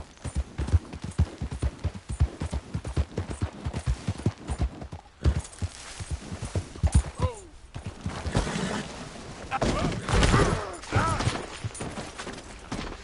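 Horse hooves clip-clop steadily in Red Dead Redemption 2, a close, quick rhythmic clatter that carries on throughout alongside other game effects, swelling louder toward the end.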